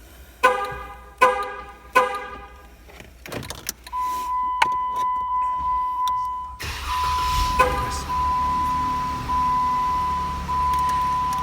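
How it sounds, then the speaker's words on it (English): A Jeep Wrangler with a plug-and-play aftermarket remote starter gives a few short horn chirps and a sustained tone, then the engine turns over and settles into a steady idle close by. "We are now ready to remote start the car."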